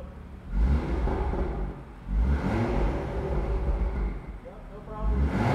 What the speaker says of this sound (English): I'm gonna give it a couple revs just to cycle some fuel through it.